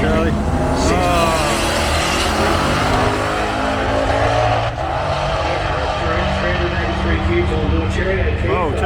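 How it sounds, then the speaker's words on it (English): A race car engine running rough at a motorsport event, a dense, loud, uneven roar with sputtering character that fills the whole stretch, with people talking over it. "Charlie, something's gone wrong with his car, man. It doesn't usually run like that"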